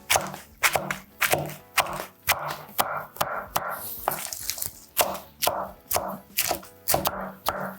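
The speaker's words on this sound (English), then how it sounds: "just with my chef's knife, I'm just gonna go over it" A chef's knife chopping salad on a board in quick, even strokes, each a crisp thunk followed by a short rustle of leaves, close and regular throughout without voices.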